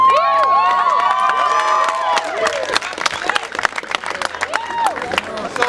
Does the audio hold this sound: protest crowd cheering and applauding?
yes